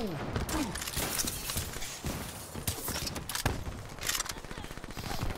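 Rapid gunfire in Black Ops 3 multiplayer, a sharp sniper rifle shot among several cracking shots and impacts in quick succession, fairly faint under busy game noise.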